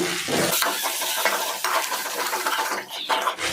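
Dried fish thokku sizzling loudly in a pan while being stirred, with continuous scraping and spattering and a few sharper utensil scrapes throughout, no talk.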